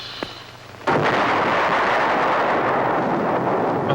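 Loud, sustained thunder rumble from lightning strikes in a film, beginning abruptly after a short quiet moment and rolling on steadily without pause.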